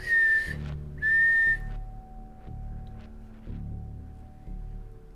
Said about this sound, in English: That was two whistles